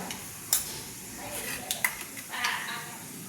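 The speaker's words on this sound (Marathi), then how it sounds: "1 चमचा मोहरी घालून घेऊयात." A spoonful of mustard seeds, along with cumin seeds, hits hot oil in a heated kadhai, giving a low sizzle dotted with sharp pops and crackles and a couple of light metallic clinks from a spoon against the pan.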